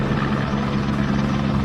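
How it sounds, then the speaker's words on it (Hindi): A Pakistan Army Aviation Corps helicopter rescuing people from floodwater on Chakri Road in Rawalpindi, its rotor a loud, continuous low droning thrum close by, with no talk over it. "पाकिस्तान आर्मी एविएशन कॉर्प्स के हेलीकॉप्टर लोगों को रेस्क्यू करते दिखे"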